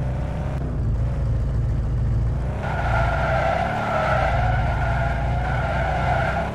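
Tyres squeal and skid as a car drives in the Border Force video game, the engine droning continuously and the screech growing louder and brighter in the second half, no voices present.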